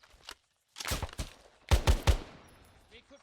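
Gunfire during military platoon training, several sharp shot clusters in quick succession, close and loud, with a few smaller cracks before them and some movement noise.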